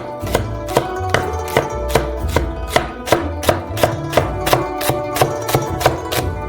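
A knife finely chops garlic chives on a board in quick, even strokes, roughly two sharp knocks per second, close and clear with no talking.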